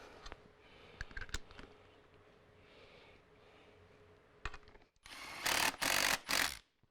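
A ratchet with a 13 mm socket drives a bolt while a center seat is installed in a Ford F-250/F-350 extended cab. Faint clicks come first, then loud, close bursts of rapid ratcheting near the end.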